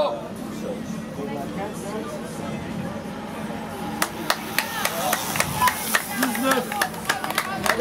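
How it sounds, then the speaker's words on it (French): Outdoor applause for cyclists at a national seniors and espoirs road race in St Georges sur Erve, with scattered sharp claps that grow denser partway through, amid crowd chatter and a talking announcer. "on peut les applaudir, bien sûr"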